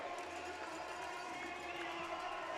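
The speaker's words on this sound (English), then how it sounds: "As the Enforcers celebrate here in front of the home crowd." A home crowd cheers and shouts at an Enforcers ice hockey game after a big win, a dense, steady roar of many voices filling the arena throughout.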